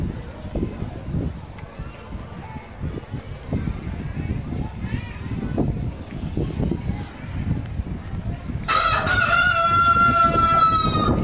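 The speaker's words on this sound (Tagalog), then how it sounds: "Manok ni Kano Guapo" Chickens cluck repeatedly under people talking at a highland resort in Talisay, Negros Occidental, then a rooster crows loudly and close near the end.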